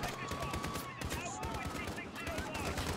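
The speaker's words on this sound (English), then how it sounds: "Who all shooting?" Gunfire in Call of Duty Modern Warfare, campaign realism mode: dense, continuous crackle of shots and bursts throughout, mixed with game sounds and some speech-like activity.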